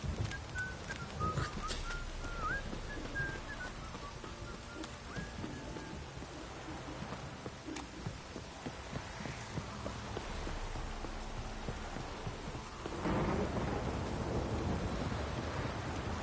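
Steady rain hisses throughout with low rumbles of thunder, faint chirps early on, and a heavier swell of rain near the end, in the video game The Witcher 3.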